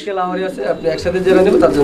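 Black Lahori pigeons coo in soft, repeated throaty calls close by at a pigeon market, mixed with a busy background of voices and other birds.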